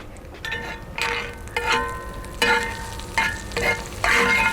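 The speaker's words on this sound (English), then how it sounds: "You can hear that sizzle." Steady sizzling and crackling from a hot charcoal grill, with repeated bursts of louder spitting as butter is spooned onto grilling beef tenderloin; no voices.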